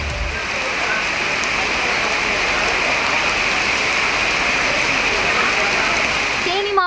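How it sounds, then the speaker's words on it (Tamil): Moderate rain driven by wind pours down in a steady, dense hiss that stays even and fairly loud from start to end, with no other sounds above it. "காற்றுடன் 1/2 மணி நேரம் மிதமான மழை பெய்தது."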